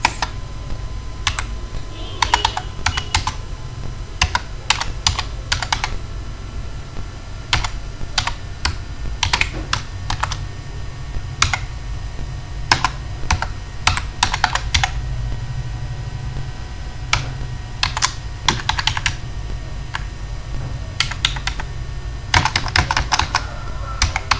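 Computer keyboard typing as code for a UART program on an Arm Cortex M4 is entered: rapid, close clicking keystrokes in irregular bursts and runs throughout, over a steady low hum.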